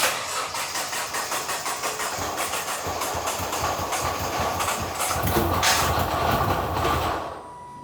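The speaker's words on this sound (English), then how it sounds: "That could also explain why the engine was running rough again in this clip here." Nissan GT-R engine running rough, a loud, steady mechanical drone with a faintly uneven, pulsing rhythm throughout, surging slightly near the end before dropping away.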